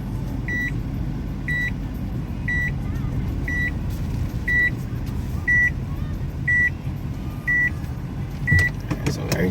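A Mazda 2 (Demio) on a test drive after a transmission fluid and filter change, with a steady engine and road rumble from inside the cabin and a repeating electronic chime, likely a seatbelt warning, beeping about once a second.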